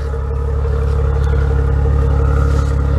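A 2017 Maserati Ghibli SQ4 AWD exhaust idles with a steady, loud low rumble, close by and continuous with no talking.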